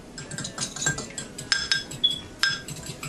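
A metal utensil stirs eggs in a bowl, producing a series of sharp, close clinks and taps at an irregular rhythm, with no one speaking.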